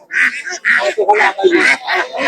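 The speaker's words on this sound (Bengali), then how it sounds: "এই যে এখানে দেশি হাঁস রয়েছে প্রচুর দেশি হাঁস" A run of loud, rhythmic quacks from native Bengali ducks at a village market, several calls in quick succession, close by and nasal.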